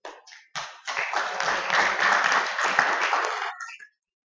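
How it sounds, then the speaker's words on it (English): An audience at the AIS'15 / AFRINIC-22 internet conference applauds its board, a dense burst of clapping that starts sharply, holds steady for about three seconds and then stops. "A round of applause for your board."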